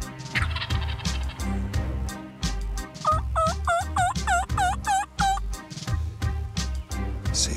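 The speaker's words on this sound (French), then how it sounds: "Et en remontant la butte, belle surprise, un gros dindon." A wild turkey gobbles in a loud, rapid warbling burst outdoors on a hunt, surrounded by low clucking and rustling nearby, with no talking.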